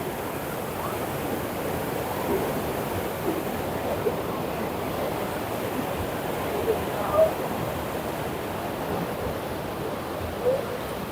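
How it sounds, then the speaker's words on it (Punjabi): Water rushes down an irrigation canal near the Harike headworks as a steady, broad wash of noise with a slight breezy edge, even and unbroken throughout. "ਨਹਿਰਾਂ 'ਚ ਇਦਾਂ ਚੱਲ ਰਹੀਆਂ ਪਾਣੀ ਚਲਾਇਆ ਹੋਇਆ ਵਾ"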